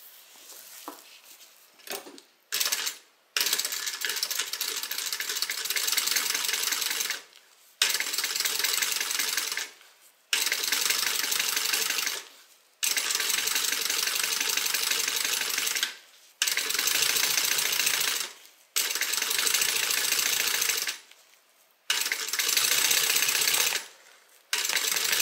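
A sewing machine top stitches the lining of a fabric beverage bag in repeated bursts of steady close whirring, each a few seconds long and separated by short silent pauses.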